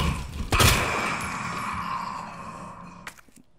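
Gunfire in the Resident Evil 2 remake: a heavy shot cracks out early, followed by a decaying reverberant tail and a second fainter shot near the end, with game ambience throughout.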